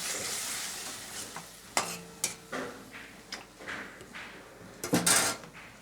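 Spice masala for a tilapia fish curry cooks down in oil, with soft sizzling broken by clattering spoon strokes against the pan and a sharper clang near the end, fairly quiet and close.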